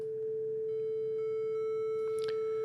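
A steady 440 Hz sine tone pushed into limiter clipping, a constant pure hum with faint added harmonics, continuous and unbroken at even loudness with a few faint clicks near the end.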